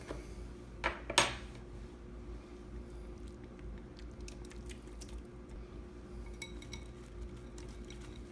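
Quiche muffin ingredients are mixed in a bowl: two sharp clinks of utensil on the bowl early, then faint, soft, wet stirring and scraping at low level.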